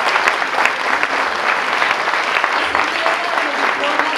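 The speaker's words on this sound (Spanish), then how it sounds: "Un aplauso." A crowd applauds at a wine awards ceremony, close and loud, with continuous dense clapping that carries evenly through the whole stretch.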